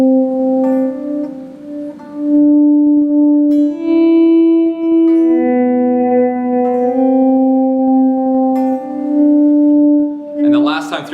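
Lead guitar swells for a song: sustained, echo-washed notes that shift pitch a few times and ring on steadily, ending in a brief noisy burst.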